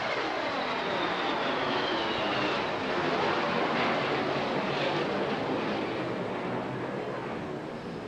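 Aerobatic jets at the Bournemouth Air Festival roar overhead in a loud, steady, broadband wash that swells slightly and then eases as they pass, with no voices over it.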